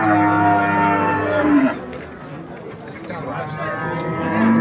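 A dairy cow lows at a cattle market, one long, loud, close moo that falls at the end, followed by a busy mix of market murmur and distant voices, then a second moo rising at the end.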